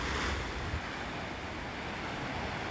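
Ocean waves at a Hawaii beach, a continuous close wash of surf with wind buffeting the microphone, a slightly stronger surge at the start settling into steady roar.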